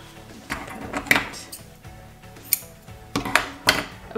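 Scissors snip through a fabric strip for a quilt made from leftover block fabrics, giving several sharp, close cuts spaced irregularly over a quiet room.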